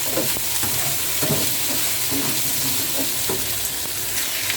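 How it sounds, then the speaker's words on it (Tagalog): Fried tofu and vegetables sizzle in a pan while being sautéed, with a steady close frying hiss and occasional scraping stirs. "Igisa-gisa lang po natin bago natin ilagay yung tofu, fried tofu"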